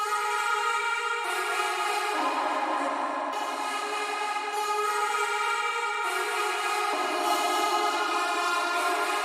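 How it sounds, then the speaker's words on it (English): Resampled vocal chop pattern built with the Exhale plugin in an electronic production, a bright, dense, sustained texture of chopped vocal tones whose pitch steps shift every second or two, continuous and fairly loud with no speech. "with a vocal chop pattern that I made using the Exhale plugin"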